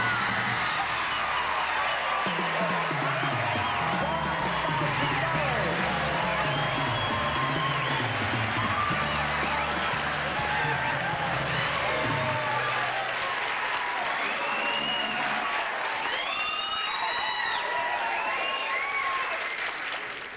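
A television game show studio audience applauds and cheers loudly and continuously for a winning shot, sustained clapping with whoops and shouts, while a host speaks over it.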